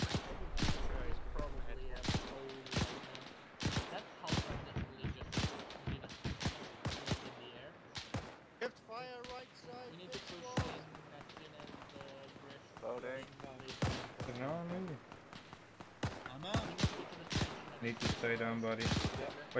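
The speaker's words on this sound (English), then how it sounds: "Chow, you're taking fire, buddy, from behind." Repeated sharp gunshots crack out in an ArmA 3 WW2 military simulation firefight, scattered bursts spread across the stretch and mixed with voices talking over them.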